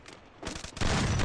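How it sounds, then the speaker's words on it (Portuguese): Gunfire in a shooter video game, a short burst of shots that swells into a louder sustained volley at the end, fairly faint overall. "Um tiro, mano"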